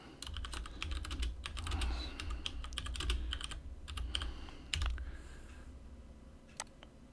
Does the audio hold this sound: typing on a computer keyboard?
yes